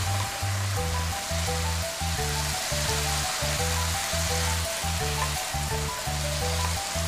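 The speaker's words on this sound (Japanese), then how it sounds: "みりん、酒を入れ汁気が飛ぶまで炒めます。" Lotus root kinpira stir-fries in a pan with mirin and sake, a constant hissing sizzle under rhythmic background music.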